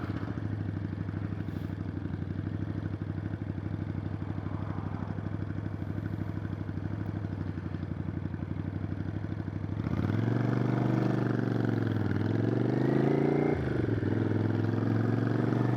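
Motorcycle riding through a picturesque town, a steady mid-pitched engine drone that swells louder and rises and falls in pitch as the bike accelerates and shifts, with no talking.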